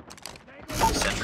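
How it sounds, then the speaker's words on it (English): A sentry gun deploys in a first-person military shooter, with a brief ratcheting mechanical clatter giving way to a louder, dense whirring and clanking burst amid game noise. "Sentry gun deployed."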